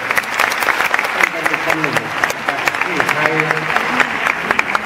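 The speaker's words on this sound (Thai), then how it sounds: "โปรดปรบมือให้เกียรติท่าน" An audience applauds in honour of General Prem Tinsulanonda at an award event, a steady dense clapping that runs the whole time while someone speaks over it.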